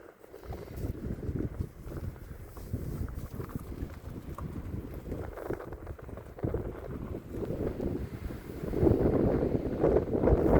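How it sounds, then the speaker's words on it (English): Strong wind buffets the microphone in steady, roaring gusts at Flatirons in Colorado, building louder toward the end, with no voices. "It's kind of windy."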